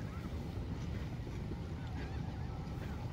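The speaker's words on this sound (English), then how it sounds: "I think that's the Rockport police boat." A police boat's engine rumbles low on open water off Rockport Beach, with steady wind buffeting the microphone and waves washing around it.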